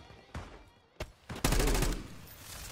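Gunfire crackles in Call of Duty: Black Ops 6, a few isolated sharp shots followed by a loud rapid burst of automatic fire lasting about a second.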